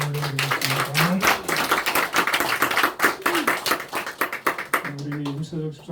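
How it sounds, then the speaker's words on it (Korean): A church congregation claps together during a Sunday morning service, the applause sustained for several seconds with a voice heard over it at the start and end. "함께 영광의 박수를 올려드리겠습니다."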